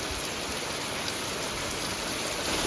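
Steady rain falls all around, a dense, even hiss of drops hitting surfaces, continuous and close with no pauses.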